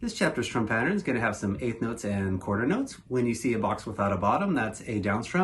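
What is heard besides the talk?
None of the usual background noises is heard.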